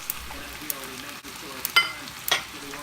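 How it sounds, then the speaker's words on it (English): Greens frying in a pan with soy sauce being stirred in, a soft steady sizzle broken by a few brief louder scraping stirs, heard alone and close. "Add about 3 to 4 tablespoons of soy sauce to the greens and stir it well."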